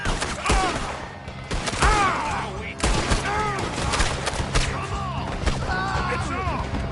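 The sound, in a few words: gunfire in video game Red Dead Redemption 2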